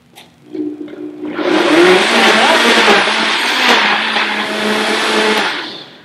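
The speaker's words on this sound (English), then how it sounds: "I'm just going to stick this on the blender here" After a brief clatter, a blender mixing banana pancake batter roars to life loudly, whirring steadily for several seconds before cutting off.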